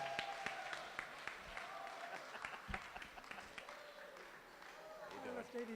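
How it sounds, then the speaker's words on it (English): Scattered applause from a small audience at a senior talent show, heard faint and distant with speech mixed in. "let's give a round of applause for the Silver Fox"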